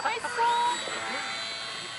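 A foam RC model airplane fitted with a big engine flies past, its high buzzing whine sweeping up in pitch and then holding steady, close and fairly loud, with people talking around it.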